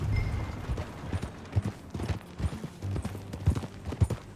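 Rhythmic clip-clop of horse hooves trotting steadily over ground in the video game Red Dead Redemption 2, close and continuous, with faint background noise and no clear talking.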